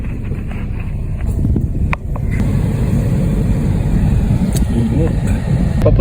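Car driving around Las Piñas, heard from inside the cabin: a steady low engine and road rumble holds throughout, with brief clicks and knocks over it and people talking inside.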